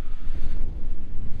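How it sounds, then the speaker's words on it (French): Strong wind of about 17 knots aboard a sailboat sailing off the French Mediterranean coast near Toulon, heard as loud, rumbling buffeting that fluctuates continuously across the whole moment. "Avec le vent qu'on a, on a encore 17 nœuds de vent."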